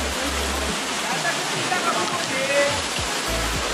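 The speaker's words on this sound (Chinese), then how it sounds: "第三个瀑布" A waterfall on a mountain hiking trail near Sandiaoling, Ruifang, roars in a constant, dense rush close by, with occasional low thumps and a brief voice under the noise.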